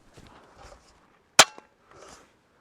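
A single sharp crack from a pumped SIG ASPEN air rifle firing on high power, sudden and close, with a small follow-up click and quiet background sounds around it.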